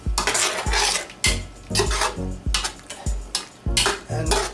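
A spoon scrapes and clanks against a metal pot while stirring cumin, garam masala, nutmeg, salt and cardamom into beef biryani, with repeated rhythmic strokes and a faint sizzle underneath.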